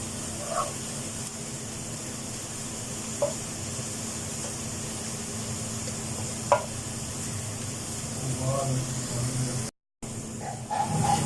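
Onions browning in hot oil for a chicken methi malai gravy, a steady soft sizzle and hiss with a few faint stirring knocks, close and without talk.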